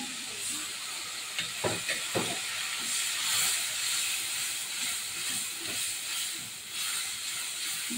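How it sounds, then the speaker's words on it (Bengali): Spices added to frying onions in a pan give a steady hiss, with several brief crackles and pops near the start and occasional stirring noises over a moderate, close sizzle. "পেঁয়াজ ভাজাটার মধ্যে মশলাগুলো দিয়ে দিলাম।"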